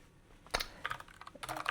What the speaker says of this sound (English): I want to type docker